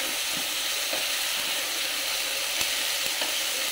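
Chicken sautés in a pan with a bright, continuous hiss of hot oil and a few faint clicks of stirring, close and even in loudness.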